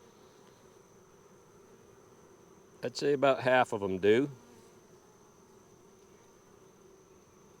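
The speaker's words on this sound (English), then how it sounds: "I'm examining the bees" Honey bees hum at an open hive during a June inspection at Cypress Creek, a faint steady drone close by that runs through the whole stretch, with a voice speaking briefly over it.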